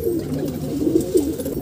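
A wild pigeon coos softly on a rooftop near a loft, a few low, rolling notes close by over faint background noise.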